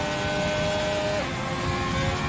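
A Ferrari race car engine in a racing video game on an Australian circuit, a steady, close, high-pitched drone that shifts slightly in pitch partway through and holds at constant loudness.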